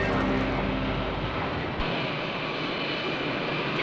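A propeller airplane arrives at an airport in a 1972 film scene, its engine a loud continuous drone that fills the clip, with the low rumble dropping away partway through.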